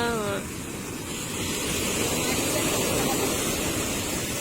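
Ocean waves wash at sea beside a boat, a loud, steady rushing roar mixed with wind, briefly preceded by a voice.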